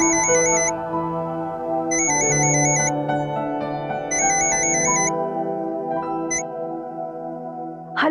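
A phone ringtone plays a repeating electronic melody in three bursts over a sustained musical tone, loud and steady, with no voices.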